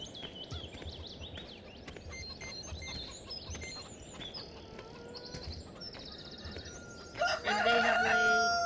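Chickens crowing and clucking in the Farming Simulator 2013 video game, with repeated rooster crows and bird calls over steady game ambience, then a louder burst of layered fowl noise near the end.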